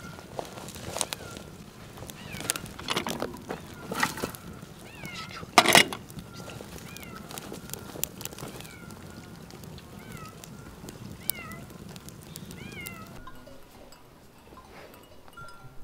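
Cats meow repeatedly at a rural village farmstead, short rising calls at medium distance spread across the clip, alongside scattered footsteps, knocks and a sharp clatter.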